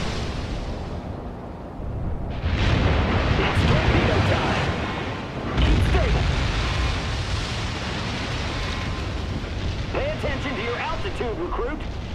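Deep, rumbling torpedo explosions from a Steel Ocean naval battle swell into broad roaring booms over steady sea and engine wash, two big surges among continuous battle noise, with game voice callouts around them.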